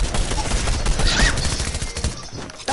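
Rapid video-game gunfire crackles in dense bursts through the whole stretch, a busy chaotic firefight with no pause.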